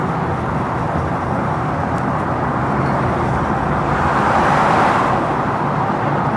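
A 1937 Ford street rod with its engine running, a steady broadband rumble holding at a constant level throughout with no speech.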